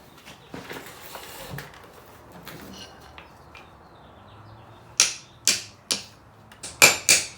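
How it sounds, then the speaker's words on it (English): Sharp metallic hammer strikes, about seven, spaced irregularly in the second half, loud and close, as solid subframe bushings are hammered into a car's subframe, after quieter faint tapping and shuffling. "we're just gonna go ahead and hammer these in, one on each side"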